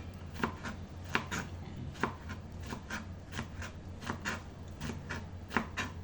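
A knife chops sponge gourd (patola) on a board in a kitchen, with about a dozen crisp, fairly close, evenly spaced cuts over a quiet background hum.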